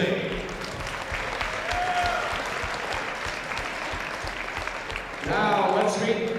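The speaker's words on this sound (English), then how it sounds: "How about a nice round of applause, because without them, we are not playing today." Crowd in a basketball gym applauding the game officials, a steady round of clapping with a faint rhythmic thump beneath, swelling louder near the end as voices rise.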